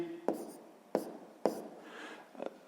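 A pen writing on paper during a quiet math lesson, four distinct scratchy strokes spaced about half a second apart, close and soft.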